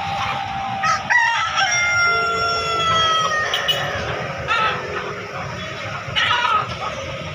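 Free-range village chickens at a busy poultry market in Makassar, with roosters crowing repeatedly in long drawn-out calls over steady clucking and background bustle, fairly close and loud.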